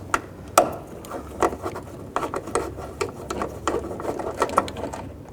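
A ratchet fitted with a 10mm socket clicks in quick repeated strokes as it backs the nuts off a side mirror on a 2000–06 Chevy Tahoe, close up and steady, with no talking over it.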